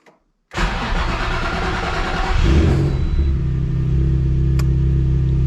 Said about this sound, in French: On va mettre plusieurs coups de démarreur.